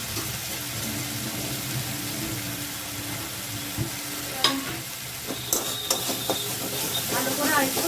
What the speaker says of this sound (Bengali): ভালো করে আর একটু ভেজে নেবো, যাতে টমেটোমের কাঁচা গন্ধটা যেন চলে যায়